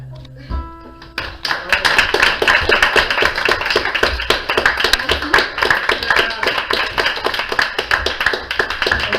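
Enthusiastic audience applause after a slam poetry performance, many hands clapping loudly and close with some distinct individual claps, sustained for about eight seconds after a brief voice at the start.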